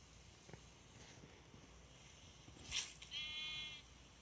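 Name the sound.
sheep bleating in the video game Minecraft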